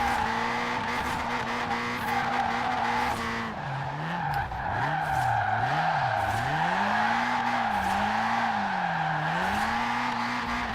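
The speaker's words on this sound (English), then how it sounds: "Oh, that is a shallow drift." In the Forza Horizon 4 racing game, a Toyota Trueno AE86 drifts with loud, wavering tire squeal over a droning engine that rises and falls as the car slides through the turns.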